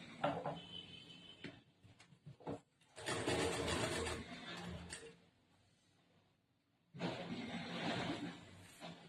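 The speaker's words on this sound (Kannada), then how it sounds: "ಇದ್ರ ಮೇಲೆ ಇನ್ನೊಂದು ಹೊಲಿಗೆ ಹಾಕ್ಬೇಕು ನಾವು." A sewing machine stitches a blouse lining in two loud close bursts of rapid mechanical running, separated by a quiet pause with faint handling noise and no talk.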